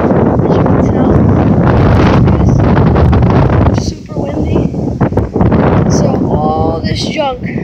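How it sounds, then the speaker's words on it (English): Strong wind buffets the microphone on a beach, a loud continuous roar that dips briefly near the middle before surging again; no one speaks over it. "It's been really windy."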